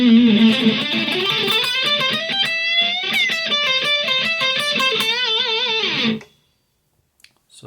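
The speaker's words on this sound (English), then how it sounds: "So that's to get a good distortion sound." Electric guitar played through a KORG Pandora Mini effects unit with heavy distortion, a run of buzzing sustained notes and bends lasting about six seconds before cutting off to near silence, with no talking.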